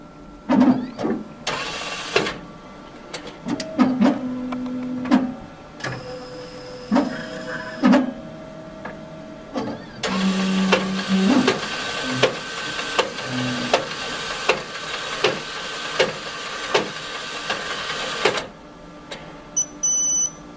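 An Eco Master coin changer machine initializes, producing a series of mechanical whirs, clicks and motor runs that start and stop in bursts, close and fairly loud, with no talking.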